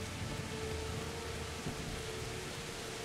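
Steady rainfall in the game Kingdom Come: Deliverance, an even, dense hiss with a low rumble beneath it, continuing without a break.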